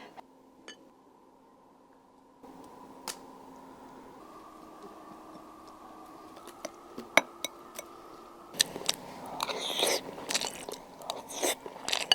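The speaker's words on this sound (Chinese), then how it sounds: "拌点米饭尝一尝" Someone eating rice mixed with freshly made homemade Shaanbei chili sauce, with soft crunchy bites and chewing plus a few light clinks of a spoon against a bowl, quiet and close over a low steady hum.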